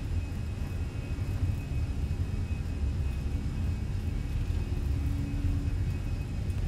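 Steady low engine rumble and roar of an Airbus A320 rolling down the runway for takeoff at Gatwick in Microsoft Flight Simulator, continuous and even throughout with no voices.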